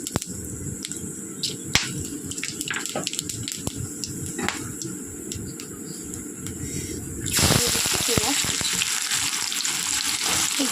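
Whole spices, bay leaf and cumin sizzling in hot oil in a wok, with crackling pops over a steady hiss that grows louder and fuller partway through as more spices go in.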